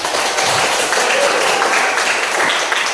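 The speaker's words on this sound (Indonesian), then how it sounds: "Tepuk tangan dong." A classroom of students claps for a classmate, dense, loud, continuous applause filling the whole moment without a break.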